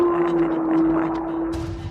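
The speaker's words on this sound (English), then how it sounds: "A lone wolf's howl pierces through their conversation" A lone wolf howls outside a tent in the woods of Hinton, Canada, a single sustained steady tone held for about two seconds over faint background noise.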